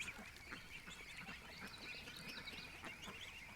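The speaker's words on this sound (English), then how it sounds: "Oh, the Canada geese are here." Canada geese in a backyard with their goslings honk repeatedly from a distance, faint and scattered calls over a soft outdoor background.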